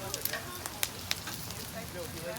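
Soft crackling sizzle with scattered sharp pops of bacon frying on a hot outdoor Blackstone griddle, steady and moderately close.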